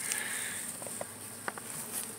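Honey bees at a backyard hive give off a faint, steady buzzing, broken by a few light taps and clicks nearby.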